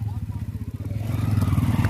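TVS Apache RTR 160 motorcycle ridden slowly along a narrow raised edge between farm fields, its engine a steady low thrum that swells louder toward the end, with a faint voice mixed in.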